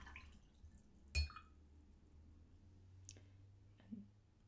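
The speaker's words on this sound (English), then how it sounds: "And then let's clean out the brush." A watercolor paintbrush is swished and tapped in a water jar, giving a few quiet, sparse clicks and drips, one sharper knock standing out against a low hum.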